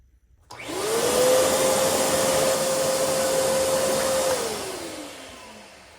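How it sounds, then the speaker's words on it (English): Shop vacuum cleaner switched on beside an open Wheel Horse 875 engine, rising to a loud steady whine with a constant tone, running several seconds, then winding down as it is shut off. "I'm going to fire up the vacuum so no shavings get down in the engine"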